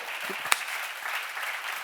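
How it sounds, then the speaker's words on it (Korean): A church congregation at a sermon seminar applauds in a soft, steady wash of clapping, with one sharp louder clap standing out early on. "믿으시면 박수 치세요"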